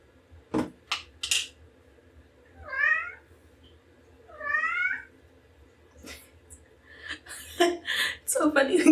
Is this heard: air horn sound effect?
no